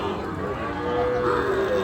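A Sahiwal calf moos amid a busy, noisy crowd at a cattle market, its drawn-out call partly buried under background chatter and commotion.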